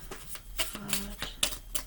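A deck of playing cards being shuffled in quick riffling bursts, close and fairly loud, with a low steady hum and a faint tone underneath.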